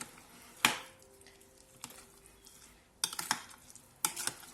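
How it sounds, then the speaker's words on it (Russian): Spoon stirring a cheesecake-style batter for a royal vatrushka pastry in a bowl, heard as a few separate sharp scraping and clinking strokes, close and fairly loud, with quiet pauses between them and no talking. "Размешаем, тщательно перемешаем ложечкой"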